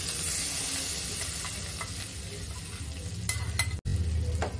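Hot tadka tempering with red chilli powder poured over a whole masoor (brown lentil) curry, giving a steady broad sizzle that swells briefly near the end with a sharp clatter.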